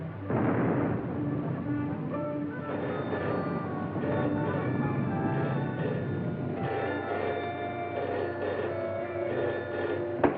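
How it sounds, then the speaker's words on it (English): Anti-aircraft gunfire in the H.G. Wells film Things To Come rolls as a continuous, muffled rumble of booms and roar on a band-limited old soundtrack, with no clear pauses. "it must be anti-aircraft maneuvers. Maneuvers at Christmas? No. Listen, guns again."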